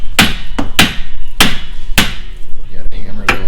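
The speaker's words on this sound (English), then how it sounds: "You gotta hammer those bolts in." Hammering bolts into a wheel bearing hub assembly on a 2008 Pontiac Grand Prix: loud, sharp metallic hammer strikes, about six blows at an uneven pace with short ringing decays, close up.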